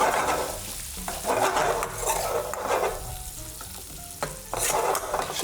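Onions and peppers frying in oil for restaurant-style mixed fried rice give a steady close sizzle, with stirring scrapes and a few clinks throughout and no talking.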